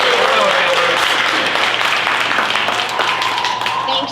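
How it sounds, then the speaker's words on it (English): Steady, loud applause from a crowd at a political campaign event held at a winery, dense continuous clapping with some voices mixed in beneath it. "can we give one more round of applause for SJ?"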